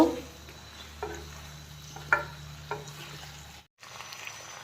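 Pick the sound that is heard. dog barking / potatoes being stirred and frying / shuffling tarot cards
potatoes being stirred and frying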